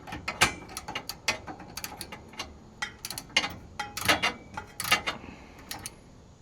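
Hand ratchet tightening a bolt on a car, heard as fairly faint, close, irregular clicking in quick runs with no voices.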